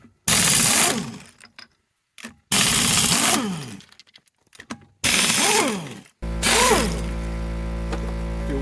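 A roller jack being pumped to raise a 2002 Dodge Dakota, with loud bursts of ratcheting, clattering mechanism in several strokes separated by short pauses, ending in a sustained mechanical whir.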